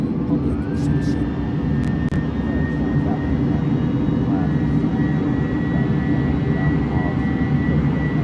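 An Airbus A310 jet taxis in Microsoft Flight Simulator 2020, making a loud, steady engine roar with a sustained high whine throughout. A voice is heard faintly underneath.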